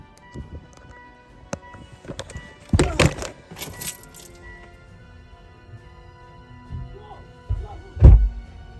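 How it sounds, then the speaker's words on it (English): A shed door being shut on an off-grid property during a bushfire evacuation, a few heavy thunks and rattling knocks with clattering in between, one loud close bang near the end, amid faint background noise. "Just shut the shed door."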